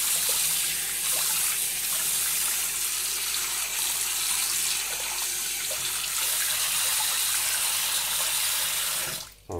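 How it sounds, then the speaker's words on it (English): Lukewarm water running from a tap into a shallow sink, a steady close hiss and splash that continues evenly, then cuts off abruptly at the end. "we're going to get some lukewarm water going in the sink, not too deep, not too hot."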